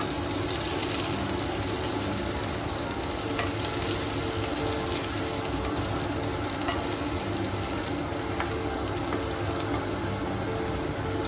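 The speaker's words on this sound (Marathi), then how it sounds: "लसूण आपण टाकलेली ती पण थोडीशी परतवून घ्यायची" Garlic sautéing in hot oil for a Shravan-special vegetable dish, a loud continuous crackle and sizzle close up, with occasional light stirring clicks and no one speaking.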